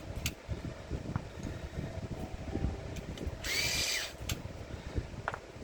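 An electric sharpener whirs briefly in short bursts as Prismacolor colored pencils are sharpened, with a louder sustained grind near the middle amid quieter background noise.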